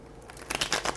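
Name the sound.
shuffling tarot cards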